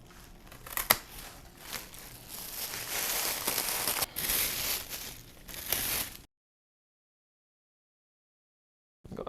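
A Monstera Aurea houseplant stem being cut with scissors or shears, a close, crisp snipping and crackling of plant tissue with rustling over several seconds, then silence.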